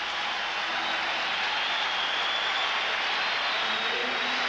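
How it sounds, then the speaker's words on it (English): The Boston Garden crowd at the 1984 NBA Finals roars in support of the Celtics against the Lakers, a dense, continuous wash of cheering and noise that stays loud and even throughout. "Listen to the crowd support for Boston Celtics."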